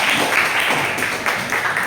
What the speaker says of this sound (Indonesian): Oke, tepuk tangan untuk Vika.